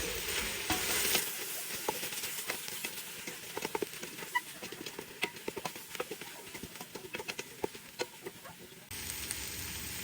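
Lamb shanks browning in a pan with a pinch of salt, a steady quiet sizzle broken by irregular clicks and taps of stirring, close and fairly soft, with no talk.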